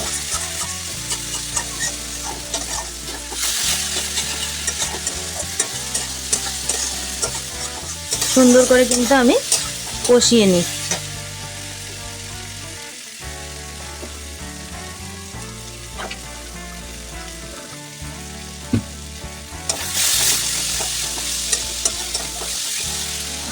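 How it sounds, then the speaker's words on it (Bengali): Pre-fried potatoes stirred back into spiced oil in a pan for katla fish red curry, a steady close sizzle with repeated spatula scrapes and clatter, briefly louder in bursts, no voices. "আমি ভেজে রেখেছিলাম যে আলুগুলি সেই আলুগুলিকে এখন দিয়ে দিচ্ছি দিয়ে এবার আবারও কষিয়ে নেব"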